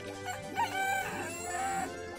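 A video-game rooster lets out one close, strained crow that stretches for about two seconds over a faint constant background drone.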